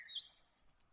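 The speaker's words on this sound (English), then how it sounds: "It was really only a little linnet singing outside his window." A small linnet sings outside a window: a quick, high, twittering phrase of warbled chirps, faint and alone.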